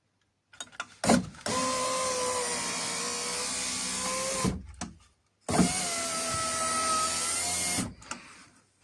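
A car's power window motor, running again after its brushes were repaired, whirs steadily for a few seconds, stops with a clunk, then runs again with a similar whir and thud, loud and close with no talk.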